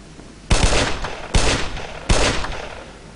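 Three sharp, loud gun bursts in the Black Mesa video game, fired by a non-player character, each with a ringing tail, evenly spaced and with no talking.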